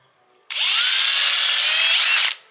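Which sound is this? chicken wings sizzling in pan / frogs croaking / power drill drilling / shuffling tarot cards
power drill drilling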